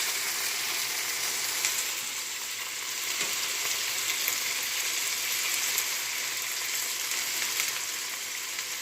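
Chicken pieces sauté in a pan with garlic, basil and onion, giving a steady, even sizzle that holds close and continuous throughout with no voices.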